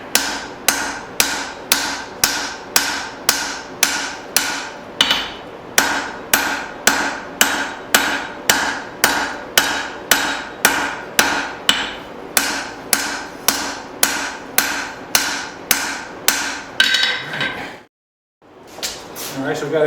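Steady hammer blows beat hot steel while forging a tomahawk head, sounding as sharp, evenly spaced metallic strikes in a continuous run before a brief pause near the end.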